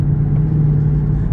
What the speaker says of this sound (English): listen to this car. This thing does sound